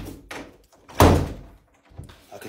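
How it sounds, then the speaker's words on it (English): A bathroom door being closed, a single solid thunk at close range with a short rattle after it, surrounded by faint talk and room noise. "Close my door."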